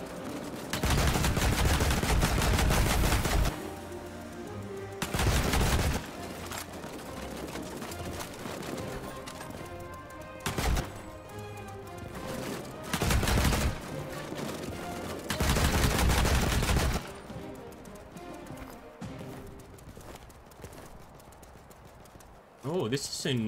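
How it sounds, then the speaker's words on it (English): PPSh submachine gun fire in the World War II shooter Land of War during the 1939 German invasion of Poland, loud heavy bursts repeating in several sustained volleys with gaps of quieter ambience between them. "Doesn't sound like a PPSH should, it sounds like a heavy machine gun."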